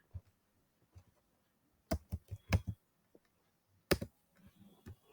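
A search term is typed on a computer keyboard, quiet near keystrokes arriving in short bursts of several clicks separated by pauses, with no voice.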